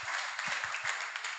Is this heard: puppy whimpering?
no